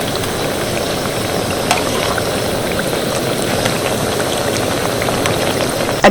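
Chakra khaja pastries fry in oil over low heat, giving a steady, loud, dense sizzle and bubbling that runs unbroken throughout with no talk.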